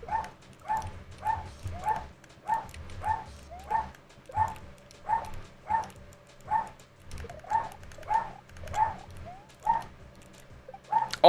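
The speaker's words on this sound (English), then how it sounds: "the dog is barking at literally nothing" A dog barks over and over in a steady rhythm, about one or two barks per second for more than ten seconds, moderately loud against a low background hum with no talking.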